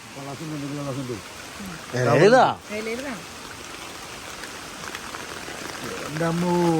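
Heavy rain falls as a constant, even hiss across the whole stretch, while people talk over it in short bursts.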